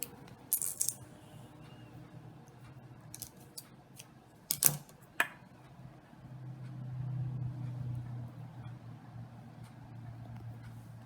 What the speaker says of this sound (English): And then I can trim the thread.